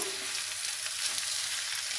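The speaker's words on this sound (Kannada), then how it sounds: "ಇದು ಒಗ್ಗರಣೆಯಲ್ಲಿ ಸ್ವಲ್ಪ ಬಾಡಿಸ್ಕೊಳ್ಬೇಕು" A steady, even sizzle of cucumber sautéing in a spice tempering in a pan, close and continuous with faint crackles.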